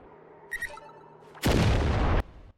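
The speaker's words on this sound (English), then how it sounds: "I was able to avoid an explosion." An explosion in a video game bursts out as a loud, sustained roaring blast lasting under a second, preceded by a few small clicks and chimes of game sound effects.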